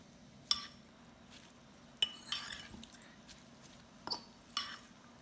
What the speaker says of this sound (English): I'm just going to mix this all together.